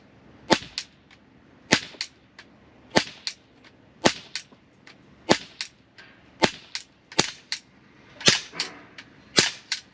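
A Glock 17 Gen 5 airsoft pistol with blowback slide fires repeatedly, sharp, loud snapping cracks with slide clack spaced roughly a second apart, near and without talk.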